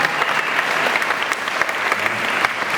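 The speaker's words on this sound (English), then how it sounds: "give it up for Boneyard Effects" Audience applause for Boneyard Effects at a Halloween Horror Nights panel at Scare LA, a steady dense clapping that stays loud and even throughout with no voices on top.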